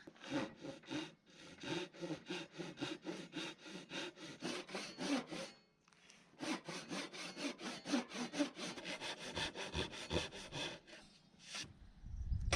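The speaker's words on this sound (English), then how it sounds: "it's time to bring out the trusty Japanese saw." Japanese hand saw cutting wood at close range, fast rhythmic rasping strokes in two long runs separated by a short pause, crisp and bright with no talk.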